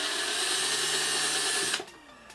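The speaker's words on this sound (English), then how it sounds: "I'm just gonna go ahead and drill the screw holes" A power drill drilling screw holes for a battery enclosure whirs steadily at high speed for nearly two seconds, then cuts off abruptly, leaving a quiet room.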